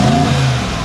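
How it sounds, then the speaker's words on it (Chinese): A V8 car engine with its exhaust valve open holds a loud, deep, steady rumble close by, heard briefly and alone without voices. "我们的 V8 引擎在那么啰啰啰啰，那个声音就很爽"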